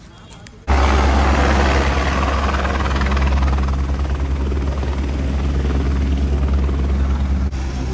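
A helicopter's loud, steady rotor thrum and engine whine starts abruptly and continues close by at the Kedarnath pilgrimage route, with a voice faintly under it.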